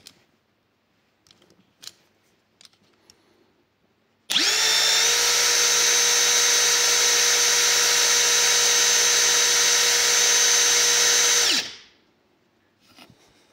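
A Parkside PERFORMANCE PDSSAP 20 Li D3 cordless 20 V impact driver/wrench spins up sharply and runs at a steady high-pitched whine for about seven seconds before winding down, close and loud, after a few faint handling clicks.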